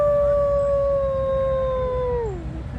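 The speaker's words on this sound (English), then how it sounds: "Wolf." A wolf howls in one long, loud, steady note that drops in pitch at the end, heard alone without speech.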